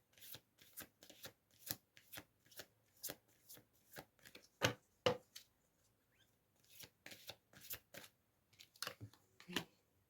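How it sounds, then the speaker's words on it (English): A deck of oracle cards is shuffled and drawn up close, giving a run of crisp, papery riffles and snaps in uneven bursts with short pauses between them. "I'm going to draw another oracle card quickly."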